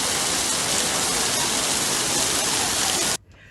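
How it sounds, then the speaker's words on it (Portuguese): Heavy rain pours down in a steady, dense roar with no audible voices, then cuts off abruptly near the end. "olha a chuva"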